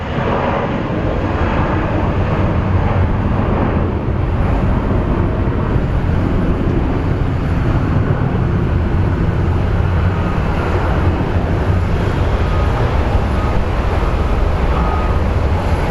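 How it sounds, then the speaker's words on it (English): A UPS Boeing 757 on landing approach at Phoenix Sky Harbor International Airport, a loud, steady broadband jet roar that holds without pause throughout, with no voices over it. "We have a 757 coming in for a landing, operated by UPS"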